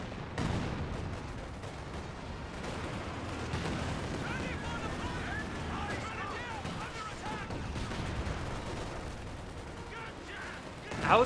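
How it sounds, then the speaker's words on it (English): A Katyusha rocket barrage rumbles through a Company of Heroes 2 battle as a dense, continuous roll of explosions and artillery fire. It stays at a steady level throughout, with a voice talking over it. "I hear a Katyusha barrage."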